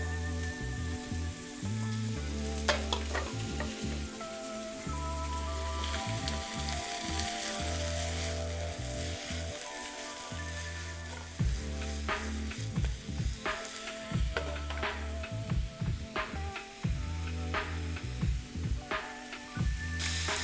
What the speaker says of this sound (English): once I have all the shrimp in the pot, I'm just gonna let them cook until they are nice and pinkish